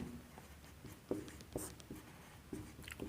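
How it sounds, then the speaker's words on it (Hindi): A teacher writes notes for a chemistry lesson, producing faint, intermittent strokes and taps of a pen or chalk at close range in a quiet room, without speech. "तो यही लिखेंगे,"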